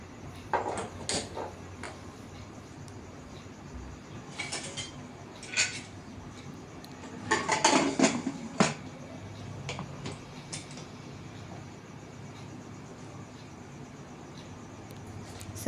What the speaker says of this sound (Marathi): मी पटकन आता कुकर लावून देते.